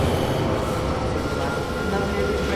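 Train carriage rumbling through wrecked tunnels in the video game Atomic Heart, a steady loud roar of wheels and rail noise that runs continuously, with faint hints of squeal and clatter.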